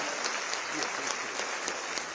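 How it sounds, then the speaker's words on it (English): Applause from an audience at Alabama State University, a steady, dense patter of clapping hands for a speaker, moderately loud and continuous with no voices over it. "Round of applause for Mr."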